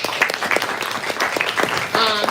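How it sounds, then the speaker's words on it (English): An audience applauds after a live poetry reading, close clapping mixed with a voice speaking over it, rising briefly near the end. "keep that applause going for my friend"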